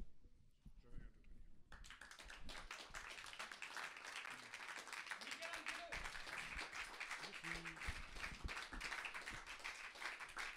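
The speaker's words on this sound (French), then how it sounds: "On doit applaudir jusqu'à ce que l'artiste sorte de scène." Audience applause at a slam poetry stage event in Liège, a dense, steady wash of many hands clapping that starts after a brief pause and carries on for about nine seconds.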